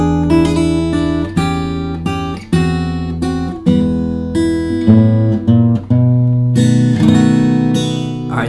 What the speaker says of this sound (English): you put all that together and we have a great classic turnaround